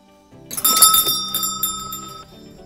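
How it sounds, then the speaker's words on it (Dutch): A doorbell rings once, a bright chiming tone that rings out clearly indoors and fades over about two seconds. "bij zo'n woning hoort natuurlijk ook zo'n bel"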